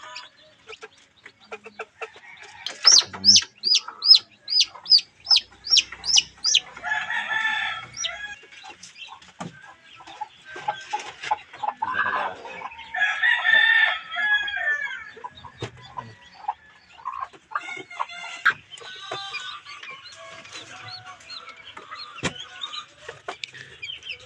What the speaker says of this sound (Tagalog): anim anim na piraso po yung sisiw niya